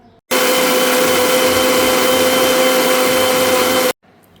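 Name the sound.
blender blending sugar and water for iftar drink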